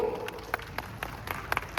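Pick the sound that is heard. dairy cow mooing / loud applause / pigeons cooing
loud applause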